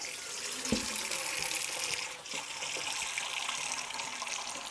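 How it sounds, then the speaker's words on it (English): Running tap water fills a bowl with warm water for soaking a rawhide bowstring, a steady close splashing gush that continues throughout with one brief dip midway. "So I'm going to fill this bowl up"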